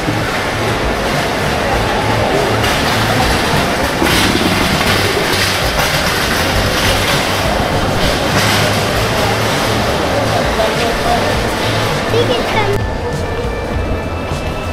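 Continuous loud rumble of the Brahmaputra Express running on tracks in Bangladesh, heard from on board, with people talking underneath the noise throughout.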